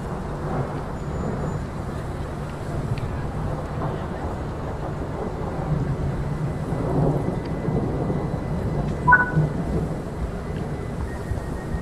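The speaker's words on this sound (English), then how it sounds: "What was that? A storm." A thunderstorm inside a train simulator game set on a London commuter line, with low rumbling thunder and rain layered over a steady engine and track drone, one louder crack near the end.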